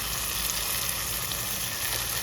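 Onions fry in a pan for okra palya, giving a loud, dense, continuous sizzle close up with no talking.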